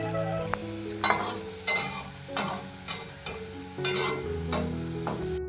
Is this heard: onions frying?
yes